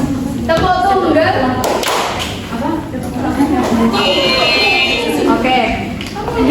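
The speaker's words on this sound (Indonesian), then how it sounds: "Tepuk tunggal." A classroom of students in an Indonesian lesson gives a single clap on cue, a sharp collective smack amid loud chatter and voices, with other taps and thuds around it.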